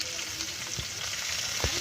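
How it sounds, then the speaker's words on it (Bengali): Washed Gobindobhog rice and mung lentils fry in oil in a wok with a dense, even sizzle. Two soft stirring knocks break through near the start and end, and no voices are heard. "চাল আর ডালটা ভেজে নিচ্ছি, ধোয়া ছিল।"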